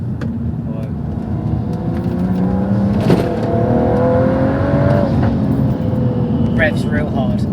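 A Stage 2 BMW M135i accelerates hard from inside the cabin, its engine note climbing in loud, sustained revving with rising harmonics and a sharp crackle near the end, while occupants talk over it.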